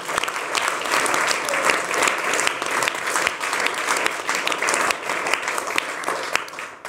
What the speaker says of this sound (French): notre public ici présent, qu'on peut applaudir d'ailleurs également